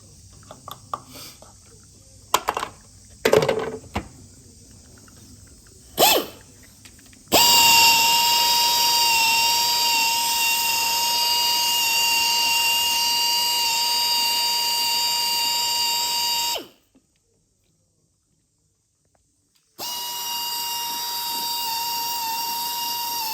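Alfa Romeo 2.2 JTS GDI fuel injectors on a test bed let out a loud, steady, high-pitched buzzing whine after a few clicks. The sound stops for about three seconds, then starts again.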